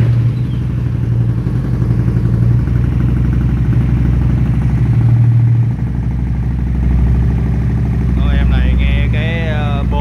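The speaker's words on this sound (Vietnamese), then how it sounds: "để mình nổ máy cái em này lên cho mọi người nghe" A Honda Shadow Phantom 750 motorcycle engine runs at a steady, deep idle throughout, close and loud, with a strong low rumble; a voice talks briefly near the end.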